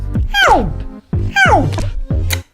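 A voice imitates turntable scratching with swooping, pitch-bending vocal sweeps in quick back-and-forth bursts, three close, loud phrases.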